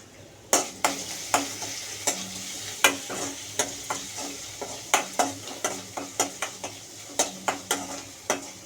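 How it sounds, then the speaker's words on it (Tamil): Onions and crushed garlic sauté in a pan for pumpkin kuzhambu, a steady sizzle broken by a regular series of sharp spoon scrapes and clacks against the pan, close and clear with no talking. "வெங்காயத்தை போட்டு நல்லா வதக்கிட்டு"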